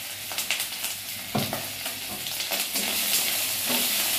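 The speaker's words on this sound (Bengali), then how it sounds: "আর একটু তেল দিয়ে দেবো" Oil sizzling and frying in a pan of potato and tomato curry with gram-flour fritters, a spoon stirring and scraping in short bursts before the steady hiss takes over.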